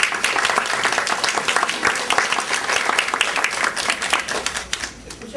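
A crowd applauds at an international panel, dense steady clapping from many hands that carries through the whole stretch, fading slightly near the end.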